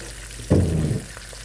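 Chicken piccata sizzles in a pan on an outdoor butane stove, with one short burst of frying lasting about half a second before the sound settles back to quiet.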